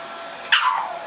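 Shiba puppy whining during a blow-dry after a bath, a single brief high-pitched whimper over a steady dryer hiss.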